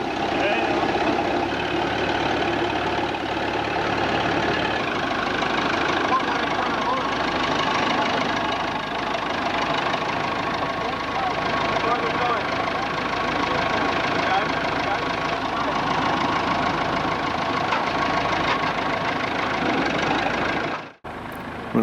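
A steady engine idles and rumbles continuously, fairly loud and close, then cuts off abruptly near the end.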